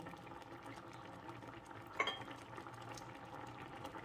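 Thai fish ball curry simmers gently in a pot, a faint low bubbling with one brief clink of a utensil against the pot midway.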